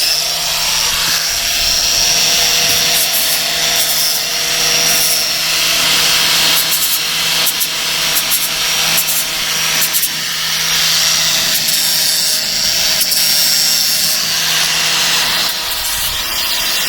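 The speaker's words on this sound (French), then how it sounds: "Je ponce le gel côte" A loud, continuous abrasive sander grinds on boat gel coat and fiberglass during a repair, close up and steady for the whole stretch.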